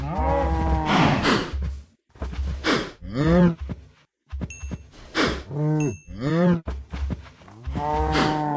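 Minecraft cows on a farm give several long, loud, drawn-out moos one after another, with short gaps between the calls.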